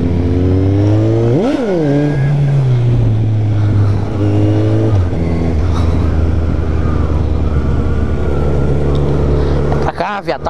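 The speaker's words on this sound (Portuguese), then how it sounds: "Tá com medo de acelerar essa porra?" A vehicle engine revs hard under acceleration, a loud continuous drone that surges sharply upward in pitch, drops back, holds a steady throbbing tone, then snaps into another quick rev at the end.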